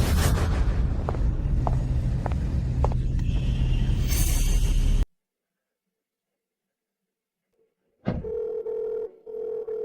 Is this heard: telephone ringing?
yes